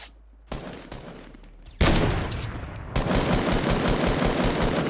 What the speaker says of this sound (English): I just went for the snipe.